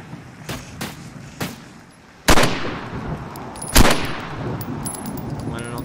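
Several sharp gunshots ring out in a multiplayer post-apocalyptic zombie survival video game, with two louder blasts that echo and fade, over a low ambient game background.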